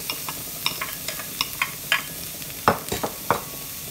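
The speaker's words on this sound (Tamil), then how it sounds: "லோவில் விட்டு குக் பண்ணால் தான் மரக்கறி எரியாது, வதங்கி நல்லா வரும்" Mixed vegetables, including beans and cauliflower, being stir-fried in a pan over low heat: a run of short, separate scraping and clattering strokes over a faint, steady sizzle, close by.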